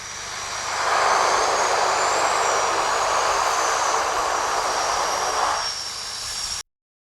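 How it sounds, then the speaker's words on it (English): A Twin Otter aircraft on skis comes in to land on snow, its engine roar swelling within a second and holding steady and loud, then easing slightly before cutting off abruptly. "The pilot must have thought that it's a beautiful day to take this twin otter on a skiing trip."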